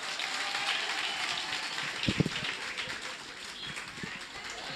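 An audience at a student eloquence contest claps for a finalist, a modest, fairly distant applause with a few louder claps standing out midway.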